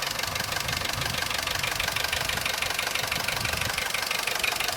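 A Vauxhall Corsa C engine idles after a new timing chain kit was fitted, giving a steady, loud, dense mechanical clatter with a knocking texture that runs unbroken throughout, with no talking.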